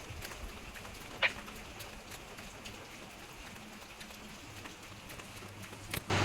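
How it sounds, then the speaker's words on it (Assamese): Steady rain falls outside at night, a soft continuous patter with occasional louder drops close by, faint and mostly uninterrupted. "বঢ়িয়া বৰষুণ দি আছে"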